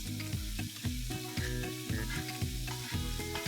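Mutton mince cooking in plenty of butter for a dhaba-style keema sizzles and crackles steadily and loudly up close, a continuous fry with no voices.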